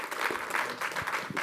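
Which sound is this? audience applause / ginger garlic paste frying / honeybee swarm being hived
audience applause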